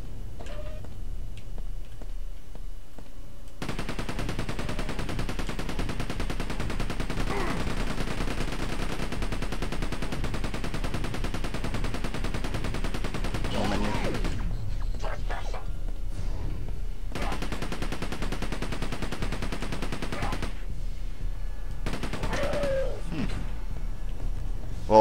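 A weapon firing in Quake 2 keeps up a long, continuous rattle of rapid shots, pausing briefly and then resuming in shorter bursts with a dull game backdrop between them.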